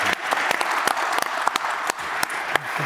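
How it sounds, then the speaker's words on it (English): An energy conference audience applauds its panelists, a close, steady burst of many hands clapping with sharp individual claps standing out, heard alone. "So let's give a round of applause to our panelists."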